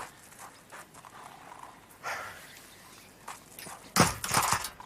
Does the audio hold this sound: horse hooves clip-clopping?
yes